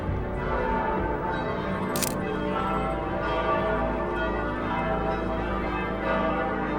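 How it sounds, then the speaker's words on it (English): Church bells ring loudly from a bell tower in Europe, a dense, constant wash of overlapping peals that fills the space without a pause. "the bell tower is so loud you can hardly hear the person next to you"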